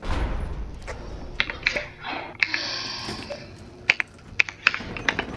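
Quick, uneven computer keyboard typing during a Dandy's World game session: scattered sharp key clicks in short bursts over faint background game sound, with no talk.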